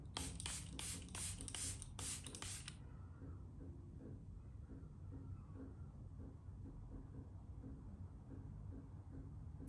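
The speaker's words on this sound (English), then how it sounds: "I'm just gonna go in with some setting spray." Several quick, close bursts of makeup setting spray hiss in a rapid row at the start, then fade into a quiet room with faint background noise.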